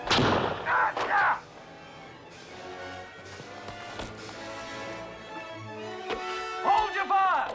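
Gunfire in a period adventure film with scattered sharp shots and thuds, some near and some farther off, over a dramatic musical score, with shouting voices in between.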